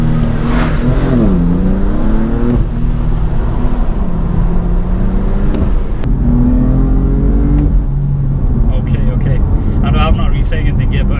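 Sports car exhaust while driving, the engine note rising and falling through revs with a whirring drone, loud and steady from inside the cabin, with people talking over it.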